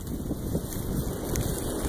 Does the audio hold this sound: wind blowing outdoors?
yes